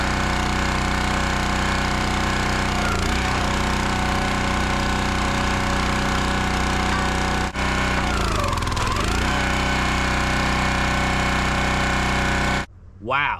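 A 28-ton log splitter fitted with a 4-way wedge runs loud and steady, its engine droning close by with brief dips in pitch as it works, then cutting off abruptly near the end.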